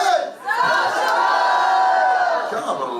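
A large crowd at a social gathering roaring and cheering, a loud sustained wash of many voices with shouts and whoops rising over it.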